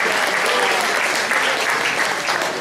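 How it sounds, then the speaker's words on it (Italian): Loud, dense applause from an audience at a gathering in Manoppello, Italy, a continuous roar of many clapping hands holding steady throughout, with voices faintly mixed in. "quindi un applauso a Vincenzo"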